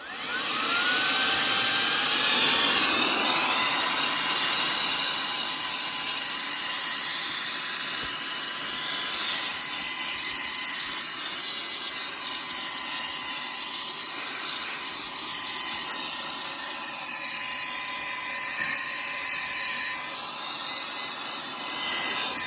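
A Saker mini brushless car vacuum cleaner runs in blower mode, a steady high-pitched motor whine with airy rush and a slight pitch sweep at start-up, loud and continuous throughout.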